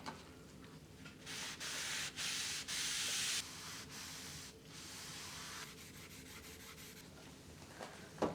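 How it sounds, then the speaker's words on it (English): Wood stain rubbed by hand onto a longboard deck makes soft, close rubbing and swishing strokes, some longer and louder than others, with no voices over it. "Instead, I'm just going to rub it on."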